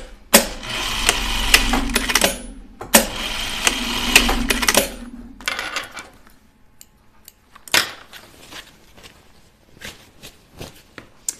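A home sewing machine stitches elastic onto gym shorts in bursts, two long loud runs near the start, then shorter stops and starts with handling clicks and rustles between them.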